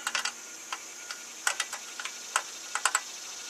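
A 10 millimeter wrench loosening a bolt on a Quattrocycle seat gives sparse, irregular metallic clicks and ticks, close and fairly faint, spread across a quiet background.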